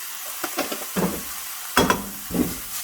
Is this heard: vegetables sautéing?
yes